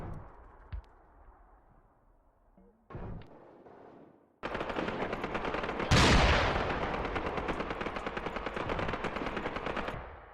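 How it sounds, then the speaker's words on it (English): Enemy machine guns rattle in sustained automatic bursts in a Graviteam war game, beginning with sparse distant shots and then breaking into a loud, dense, continuous fusillade that carries on to the end. "We actually are receiving some enfilade fire from those MGs."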